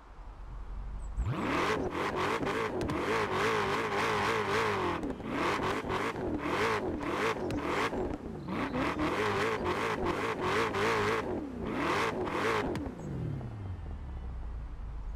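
The ZA car in Forza Horizon 4, a high-torque machine with over 900 Nm, revs hard, its engine roaring loud and continuous for about twelve seconds, rising and falling through gear changes before cutting off abruptly.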